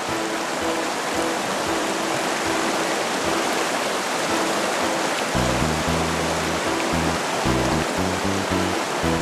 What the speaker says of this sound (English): And here's the river she was fishing in.